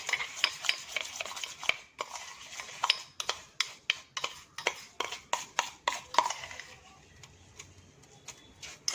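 A homemade coffee lip scrub stirred in a bowl gives a steady run of short scraping strokes, about two per second, close and fairly soft, with no talk over it.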